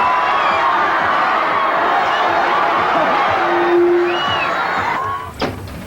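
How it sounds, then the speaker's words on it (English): A large crowd cheers and claps continuously at steady loudness, with whoops and a brief sharp clatter near the end. "give him a warm round of applause"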